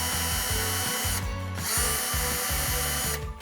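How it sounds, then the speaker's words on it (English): A power drill bores holes through a hot air balloon ornament, whirring in short repeated bursts with brief pauses between them, close and fairly loud, with no talking. "So now we're gonna drill our first holes."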